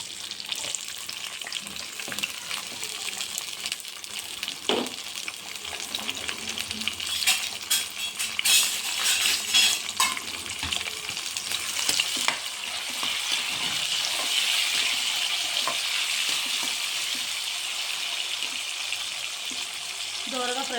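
Sliced onions and green chillies fry with tempering seeds in a hot pan, giving a steady close sizzle and crackle with occasional stirring scrapes. The hiss grows denser toward the end.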